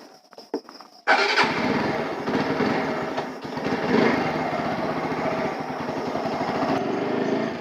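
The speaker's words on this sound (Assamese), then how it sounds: "বেয়া চাউণ্ড কৰি আছে বাইকখন" A few clicks and a brief whir, then a motorcycle left unused for three days catches and settles into a steady, close, rattling idle.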